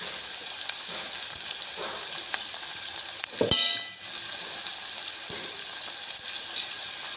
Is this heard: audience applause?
no